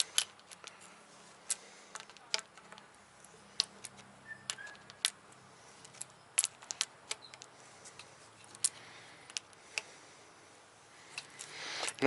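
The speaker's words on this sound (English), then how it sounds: "this is when your crescent wrench has to do its job" A crescent wrench works an aluminum fitting on a VW MK4 oil catch can setup, giving sparse, sharp metallic clicks and ticks at irregular intervals against a quiet background.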